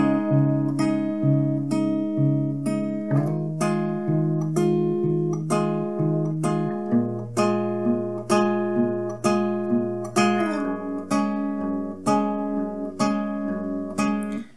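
Acoustic guitar strumming chords for a song, each change marked by a slide into the first note of the chord; steady, clear chord strikes with gliding pitch shifts, played solo without talk.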